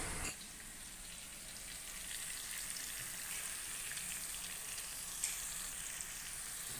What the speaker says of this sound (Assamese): তাৰ পাছত মই এতিয়া ফ্ৰাই কৰি লোৱা পটলখিনি তাত দি দিম।